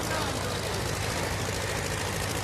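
A tractor engine runs steadily and loudly throughout, a dense low rumble with broadband noise and no pauses, heard close by in hot open farmland.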